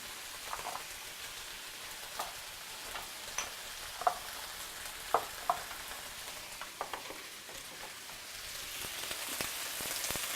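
Shakshuka fries in a pan with a steady, close sizzle while cumin is added, punctuated by a few light taps and scrapes from stirring.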